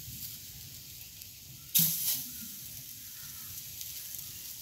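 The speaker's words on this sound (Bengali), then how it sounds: "এই গরম অবস্থায় মশলা মাখানো মাছটা কড়াতে দিয়ে দিব বিনা তেলে মাছ ভাজা" Spiced fish placed in a hot kadai without any oil gives a short, loud sizzle burst that quickly settles into a faint, steady hiss; no one speaks.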